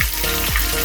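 Chopped onions fry in oil and ghee with a loud, close, dense sizzle during a brief moment of stirring.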